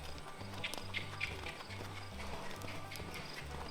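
A horse trotting while being lunged in a circle, hooves striking the ground in a steady, even clip-clop rhythm, moderately close and continuous throughout, with faint background noise.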